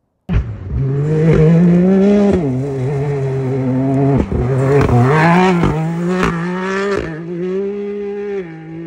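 A Can-Am Maverick R with a 3-cylinder Rotax engine revs hard through gear shifts, a loud, close, raspy engine note that climbs in pitch and then cracks sharply at each of several shifts, with no talk.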